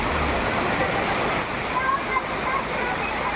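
A waterfall roars steadily and close, a dense continuous rush of falling and splashing water with no breaks.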